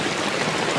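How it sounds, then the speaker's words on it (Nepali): Monsoon rain falling while water runs across a road in Tanahun, Nepal, a steady, loud broadband wash, with no voices. "पानी त परेको परै छ।"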